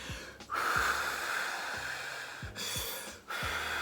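A woman demonstrates a stress-calming breathing exercise with several deep, close breaths. Sharp inhales and long, steady exhales repeat in an even rhythm, with no talking over them.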